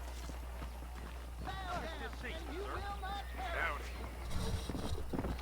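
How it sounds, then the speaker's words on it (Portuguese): A horse in Red Dead Redemption trots with a soft clip-clop of hooves under a constant low hum, while someone talks over it in the middle of the clip. "Eu acho que vou chamar meu cavalo."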